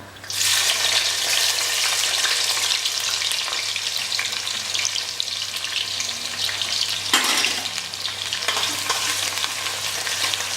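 Steady, loud sizzling and crackling of garlic and black cardamom frying in hot ghee, close up, continuing throughout with a brief stirring scrape partway through.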